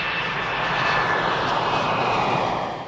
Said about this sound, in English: The test pilots then performed multiple takeoffs and approaches, going through every possible engine thrust setting.